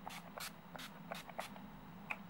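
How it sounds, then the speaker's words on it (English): Urban Decay All Nighter setting spray misted in several quick close bursts, sharp hissing puffs repeating about every third of a second, fairly quiet with no voices. "I'm going to set that all with some Urban Decay All Nighter Setting Spray"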